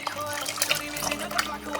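Chicken-boiled stew liquid poured into a cooking pot for jollof rice, a close splashing, gurgling pour with drips, while a person talks over it.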